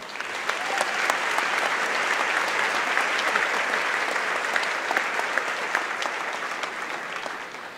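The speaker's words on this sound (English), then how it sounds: "Would you join me in a big round of applause for Mr. Bob Barton?" Sustained applause from a high school graduation audience, dense and even clapping filling the room, rising in the first second and holding steady before easing slightly at the end.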